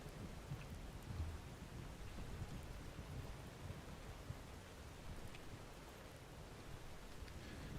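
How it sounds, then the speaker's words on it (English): Rain and thunder in the game Fallout 4, played in survival mode: a faint, steady hiss of rainfall with low rumbles underneath, continuous and without voices. "It has been raining a lot."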